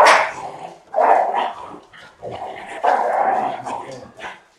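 Dogs bark and yip indoors in a house, several loud bursts with short pauses, mixed with a person talking over them.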